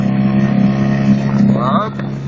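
HANGKAI 4HP outboard motor on a SeaLine 2-270 rigid-transom inflatable boat, a loud close engine drone with a low steady hum that rises slightly as the throttle opens, with brief speech over it.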